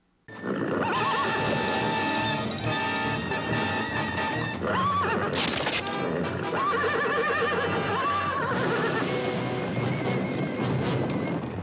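A horse whinnies loudly over a dense musical score, its high, wavering cries rising clearly above the music several times.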